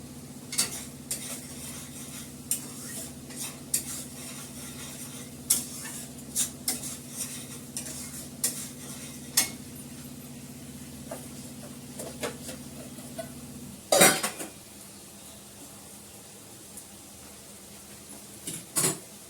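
A spoon stirs a frying dish in oil, giving repeated soft scrapes and taps over a steady low hum and faint sizzle, with a sharp clatter near the end.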